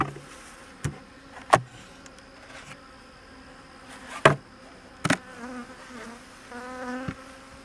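Steady buzzing of many bees close by around an open hive, with a few sharp knocks and clicks punctuating the drone.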